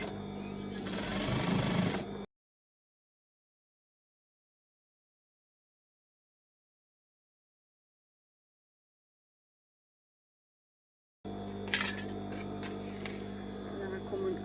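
A sewing machine stitches the waistband of a pair of children's shorts, running in steady buzzing bursts before and after a long silent pause, close and moderately loud, with a voice speaking alongside.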